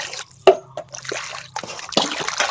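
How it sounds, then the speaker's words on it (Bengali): Small fish being washed by hand in water, with wet drips, splashes and squelching handling sounds in short bursts and faint background noise between them; no one speaks. "এবার এগুলো মাছগুলোকে ধুয়ে নিই"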